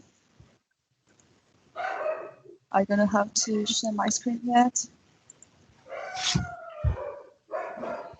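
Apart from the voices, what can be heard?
dog barking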